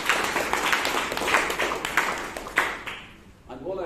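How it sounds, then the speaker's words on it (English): Applause from an audience at a Toastmasters meeting in Bangalore, broadband patter that fades out partway through, with a voice coming in near the end. "And round of applause again."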